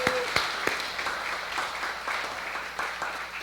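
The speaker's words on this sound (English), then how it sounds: "Let's give them another round of applause" An audience at a pastoral installation ceremony claps in a dense, sustained round of applause, with a few sharper individual claps standing out near the start and no voices over it.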